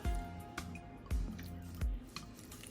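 Apple pickle stirred together with sugar and vinegar, giving three soft, wet squishing strokes close by, each with a low thump, spaced about half a second to a second apart with quiet clinks between.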